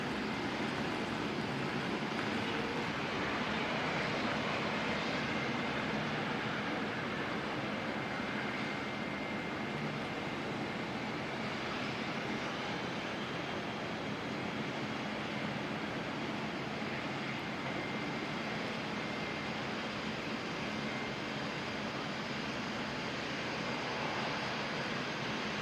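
A LATAM airliner touches down at Auckland Airport, a continuous distant roar of jet engines that stays broad and steady throughout.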